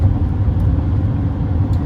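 A Duramax diesel truck engine works under load at highway speed while towing a 48-foot cargo trailer, giving a loud, steady, low rumble that runs without a break.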